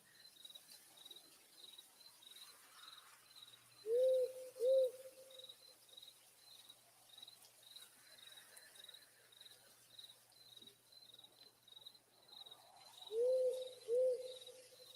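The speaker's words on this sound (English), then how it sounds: "Like the little ambient sound of the owl." An owl gives two-note hoots twice, a few seconds apart, over a steady high pulsing chorus of crickets in a quiet night setting.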